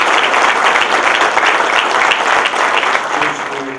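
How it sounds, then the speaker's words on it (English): A large audience at a PAMS conference gathering in Chile applauds their co-hosts, a dense, steady roar of many hands clapping close and loud throughout, easing slightly near the end. "I think they deserve a round of applause"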